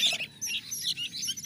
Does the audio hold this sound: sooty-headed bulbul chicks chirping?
yes